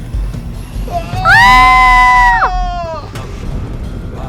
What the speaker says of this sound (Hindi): फिर एक चीख दोनों के मुंह से निकली।